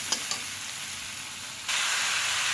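Mung dal frying in a pan for a Bengali fish curry, a steady close sizzle and hiss with a couple of light stirring clicks early on, then the frying grows suddenly louder and brighter partway through.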